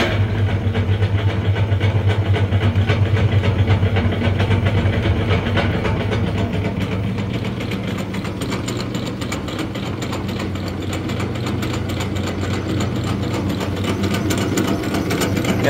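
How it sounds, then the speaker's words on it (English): A refurbished Hobart MG2032 mixer grinder runs in mix grind mode with a loud, continuous mechanical drone and rapid ratcheting, gear-like clatter that holds steady throughout, with no one speaking. "we'll go ahead and put the machine into mix grind"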